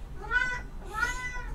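A cat meows twice, close and clear, each call drawn out and rising then falling, with a short pause between them and no talking.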